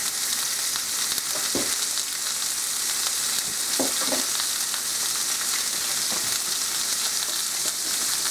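Seasoned meat fries in a pan with a steady, close sizzle that runs throughout, broken by a few soft knocks of stirring or handling.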